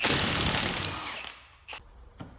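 A Milwaukee power tool with a 1/16-inch socket rattles loudly at close range for about a second while removing a bolt on a Polaris RZR XP 1000 during a front differential rebuild, then winds down, followed by two sharp metallic clicks.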